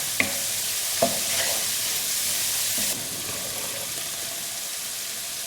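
Prawn curry spices sautéing over medium heat in a pan for a king prawn bhuna, a steady close sizzle with a couple of brief stirring clacks, then a quieter continuous fry after about three seconds, no talking.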